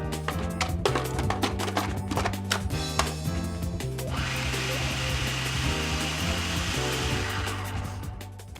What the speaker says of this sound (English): I've got to puree this in my food processor